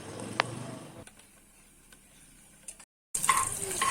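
Cumin seeds and chillies fry in hot oil for a tempering, giving a steady, soft sizzle with faint stirring clicks. The sound cuts out briefly, then returns more brightly.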